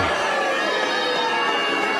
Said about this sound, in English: Listen to the crowd. Initial cheer.